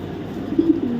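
A racing pigeon, a 2022 ringed bird that has flown several races, gives a brief, low, throaty coo close by, standing out over a quiet background.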